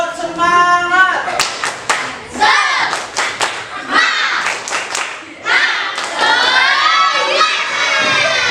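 Classroom of children doing a rhythmic group spirit clap, sharp claps in quick patterned bursts mixed with loud shouting and cheering voices, close and lively throughout.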